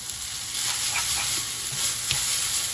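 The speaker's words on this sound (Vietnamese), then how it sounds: "Mình xào đến khi nào mà mình thấy tất cả các cọng mì nó bóng đều" Noodles stir-fried in cooking oil with beef, a loud steady sizzle and hiss with scattered scraping stirs of the utensil in the pan, no talk.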